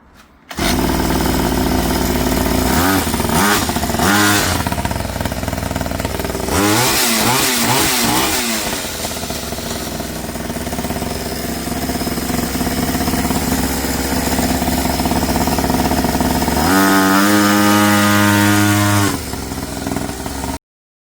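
A mini motorbike's small engine cranks with a few sputtering attempts, catches and revs, then settles into a loud, steady buzzing run with another rev burst near the end; close by, no talk.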